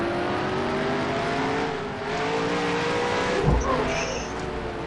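A stock car race engine in NASCAR Heat, modded, revs up under power with rising harmonic tones, a steady loud drone with a brief thump midway and faint talk underneath.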